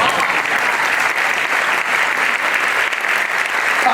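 An audience at a Hindi comedy poetry show claps, producing dense, even applause that holds steady and loud for about four seconds, with no speech heard.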